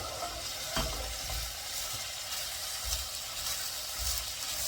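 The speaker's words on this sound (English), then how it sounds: "And you want to make sure you move this onions around. You don't want it to burn." Onions frying in a pan for golden onion butter rice, giving a steady close hiss of sizzling with soft scraping and stirring bumps at irregular intervals.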